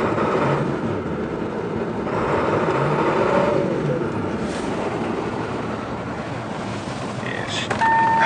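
A 2007 Ford F250 Lariat truck engine revs after a cold start, a steady broadband rumble rising and falling in a few swells, close and fairly loud throughout, with no talking.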